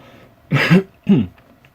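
Two short, throaty coughs in a row, close and fairly loud, with quiet between them and no talking.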